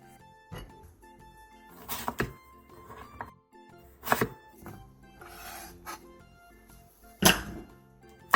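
A knife cuts through Korean radish, slicing it into 0.5 cm rounds and then quarters for pollack stew. A handful of crisp chopping thunks land on a board, spaced irregularly with quiet pauses between them.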